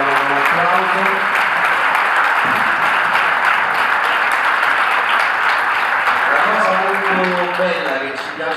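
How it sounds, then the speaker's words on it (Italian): An audience applauds to welcome Mauro Berruto, coach of the national volleyball team, sustained loud clapping throughout with a voice speaking over it near the start and end. "un applauso"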